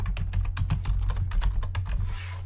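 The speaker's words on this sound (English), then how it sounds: "I can go ahead and just type in human resources here" Rapid typing on a computer keyboard while filling in a form field, a steady run of close, crisp key clicks with no talking over it.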